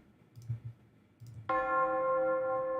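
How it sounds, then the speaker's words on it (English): Tubular bells sample pitched down a semitone, struck once after a few faint metallic clicks and then ringing with a sustained, bright tone that holds steady to the end. "Tubular bells was what I found."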